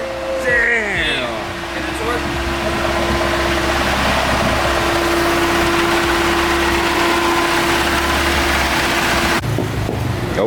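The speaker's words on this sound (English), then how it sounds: "it sounds like something might have fallen inside of the engine" A turbocharged K24 engine in an FR-S runs with a weird, rough sound, droning steadily and loud with a high whine, while people talk over it before it cuts off abruptly near the end.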